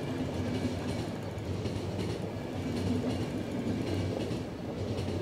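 Steady rolling rumble of a train moving along the rails in the snowy video game The Final Station, a dense continuous drone with faint rhythmic clatter running throughout at a constant level.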